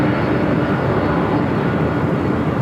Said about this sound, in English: This Delta flight heading to JFK.